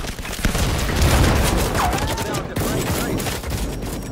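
Dense, loud video game gunfire rattles in continuous rapid bursts during a multiplayer firefight, with players talking over it.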